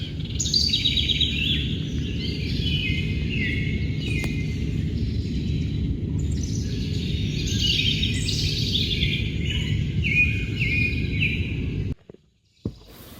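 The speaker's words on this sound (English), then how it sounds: "There was more nature to look at back in the slough too, like this heron watching from a dead tree, and plenty of other morning birds." Morning birds sing steadily in a river slough on the Mississippi River, several bright chirping and warbling calls overlapping above a constant low rumble of water or wind, with a brief dip near the end.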